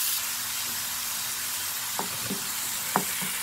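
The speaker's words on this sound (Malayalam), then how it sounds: "ഇനി ഇതാ എണ്ണ ചൂടായി, നമുക്ക് അന്നേരം ഉള്ളിയിടാം." Onion, ginger and garlic fry in hot oil in a pan, making a steady close sizzle, with a couple of brief clinks and stirring sounds partway through and no voices.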